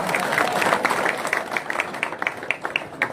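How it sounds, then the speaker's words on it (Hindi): Crowd applause at a Congress party political rally in a village, steady mid-distance clapping from many people with scattered louder claps, no clear speech over it. "थोड़ी ताली अच्छी ठोको यार।"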